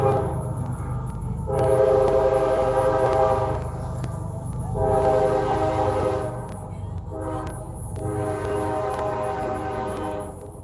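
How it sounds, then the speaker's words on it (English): A train passes near a rail junction, its loud horn sounding in three long harmonic blasts over a steady rumble and rolling wheel noise. "Fifth train today."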